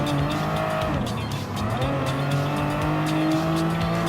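An Aston Martin DB11 racing in Gran Turismo Sport, its engine droning loud and steady throughout with rising and falling revs and brief tire squeal, no talk over it.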